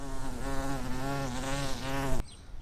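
A wasp buzzes steadily close by near garden bushes, a loud droning hum that wavers in pitch for about two seconds before cutting off abruptly, leaving quiet.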